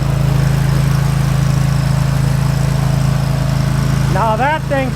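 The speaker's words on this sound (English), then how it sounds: "It's a bad boy lawnmower." A Bad Boy riding lawn mower engine that sat all winter, running steadily with a loud, close, constant droning hum; a voice speaks briefly near the end.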